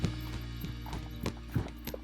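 Hooves of a gaited horse, formerly a show-ring horse, being schooled at a walk, clopping close by in an uneven rhythm of several footfalls, with a soft snort or whinny-like breath among them.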